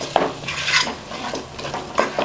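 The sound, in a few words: stirring masala into vegetables in a pot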